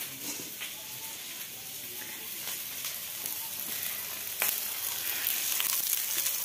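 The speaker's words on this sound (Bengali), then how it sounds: "এখানে উনুনে কড়াইয়ে দিলাম পেঁয়াজ, লঙ্কা আর বেগুন।" Onion, chilli and eggplant fry in a wok over a clay stove, giving a faint, steady hissing sizzle with a few soft scraping ticks and no talk.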